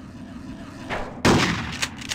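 A pump-action shotgun fires in the Hitman video game: one sharp, loud blast with a short tail, preceded by a softer mechanical click and a low ambient hum.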